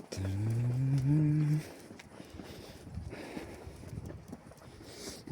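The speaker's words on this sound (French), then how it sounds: "Vache." A cow moos loudly and close by in one long, drawn-out call, then quieter outdoor rustling and faint background noise follow in cold midday weather.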